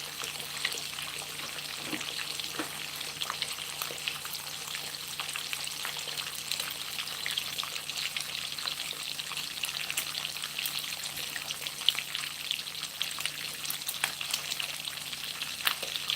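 Smoked jowl bacon sizzles and crackles steadily in a frying pan while a spoon and whisk stir it, with faint scraping and clicks over the continuous fry and no talking.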